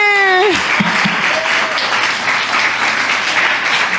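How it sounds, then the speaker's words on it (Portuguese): Church congregation applauding steadily for about four seconds, broad clapping that fills the room, with a brief voice rising at the very start before the clapping takes over. "Vamos aplaudir!"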